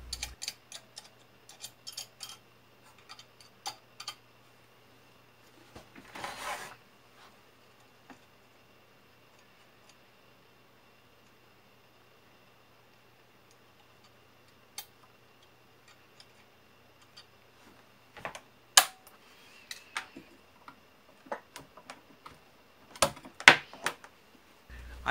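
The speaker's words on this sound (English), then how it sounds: "I take an insulated adjustment tool and start to tap on various connections" An insulated adjustment tool taps on wiring connections inside an EICO 950B capacitance bridge with a faulty magic eye tube socket connection, producing sparse, faint, irregular clicks and ticks over a quiet hum, clustering toward the end.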